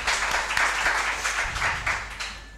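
An audience at a UCMAS competition claps and applauds, a brief burst of many hands clapping at moderate volume that fades slightly toward the end.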